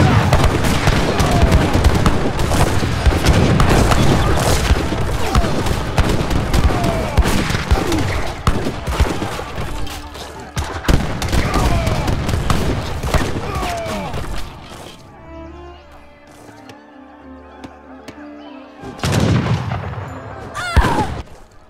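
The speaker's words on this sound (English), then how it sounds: "So many cannons in this game" Cannon fire in Age of Empires III, dense rolling volleys of booming shots, loud and continuous, easing off briefly before a final burst.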